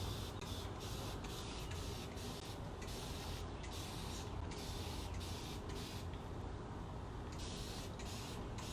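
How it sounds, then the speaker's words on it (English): Continuous steady hissing of water from a spray bottle, close and even in level throughout, with no pauses or voices. "just keep spraying it and the water will actually make it go away"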